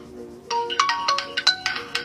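A cellphone left behind at home rings out with a bright, melodic electronic ringtone, a quick series of repeated tonal notes starting after a brief quiet moment, close and clear with no voices.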